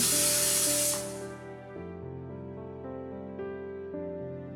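A pressure cooker lets out a sharp, loud hiss of steam lasting about a second, then fades as soft sustained musical tones continue.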